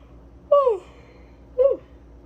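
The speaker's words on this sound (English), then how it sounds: "I am yawning, excuse me." Two breathy, vocal yawn-like exhalations from one person, a longer one then a shorter one about a second apart, close up against a quiet background.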